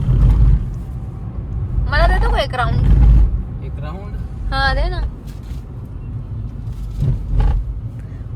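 Car driven along an empty city road near a mall at night, with a continuous low engine and road rumble under conversation inside the cabin.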